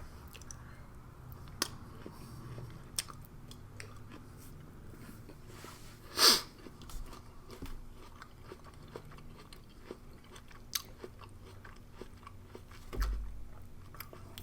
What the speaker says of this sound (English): I'll try a piece of lotus root here.